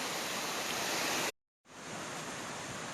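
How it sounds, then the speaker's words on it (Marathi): Stream water flowing near Vajrai waterfall, a dense, steady rushing wash close by that cuts out for a moment and then resumes just as strongly. "तर हे वजराईचं पाणी आहे."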